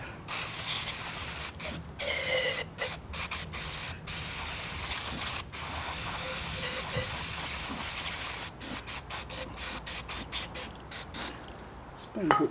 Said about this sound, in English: Let's give a bit of squirt there with carb cleaner just to clean it up a bit.